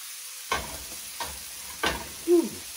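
Filet mignon steaks sizzle in butter in a hot pan, with three short bursts of frying spatter and a brief stirring clatter near the end, fairly quiet overall.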